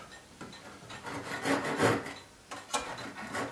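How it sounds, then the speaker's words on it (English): A blade rasps and rubs along cedar wood veneer, cut flat against the length of a box, in a few uneven scraping passes that swell and fade close by, with no voices. "You cut it flat across the entire length or width or whatever that is"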